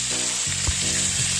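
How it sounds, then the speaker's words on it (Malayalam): Onions sizzle steadily in hot oil for chole masala, a continuous close frying hiss with faint stirring clinks. "ഇനി നമുക്കിതിലേക്ക് ഉള്ളി ചേർത്ത് കൊടുക്കാം."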